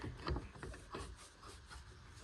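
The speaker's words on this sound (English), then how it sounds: "We're gonna clean that up with the chisel." A chisel scrapes and pares wood on a homemade clamp rack, giving short, close rasping strokes in an irregular rhythm, fairly quiet and heard alone.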